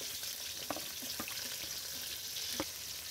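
Diced potatoes and carrots tossed into a pan of frying onions for biryani, with a steady quiet sizzle and a few sharp clinks and taps of the spoon scattered throughout, no voices.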